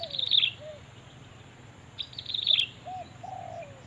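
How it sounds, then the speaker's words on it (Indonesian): Bird calls by a roadside in the morning: short chirps and brief tonal notes come in a few bursts over a steady low hum, fairly faint and spaced apart, with no talk. "Burungnya banyak bosku di sini bosku, ini masih pagi bosku"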